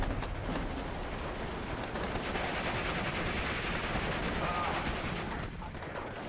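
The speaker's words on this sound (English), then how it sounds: "We got MG42, so it doesn't even matter. Mow him down." An MG42 machine gun fires in the WWII strategy game Steel Division 2, a dense, rapid rattle of continuous bursts heard at a distance. Mechanical battlefield noise surrounds it, and faint voices are in the background.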